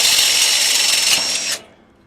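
A power drill's pilot bit bores through the inner hole while fitting a Zedlock, a steady high whirring grind that runs loud and close for about a second and a half before cutting off abruptly.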